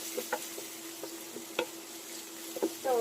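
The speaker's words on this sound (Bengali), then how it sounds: "এখন আরেকটু আমি ভেজে নিচ্ছি এখানে আমি সামান্য একটু আদা রসুন বাটা ইউজ করছি" Potatoes fry in a pan with a little ginger-garlic paste, giving a faint, low sizzle broken by a few sharp spoon-stirring clicks over a steady background hum.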